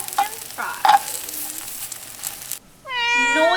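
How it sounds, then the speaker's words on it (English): A small domestic cat meows at close range, a clear rising-and-falling call lasting under a second and standing out loudly after brief kitchen-like noise and a moment of near silence. "Noisy little cat over here."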